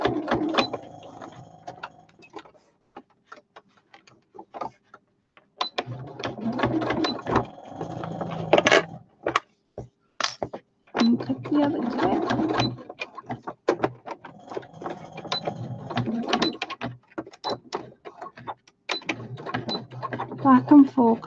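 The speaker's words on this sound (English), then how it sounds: "I'm going to sew diagonally and then just check the back." Sewing machine stitching fabric for an anti-slip foot pedal mat, running in repeated mechanical bursts with pauses between runs, close and clear, with a person talking between and over the stitching.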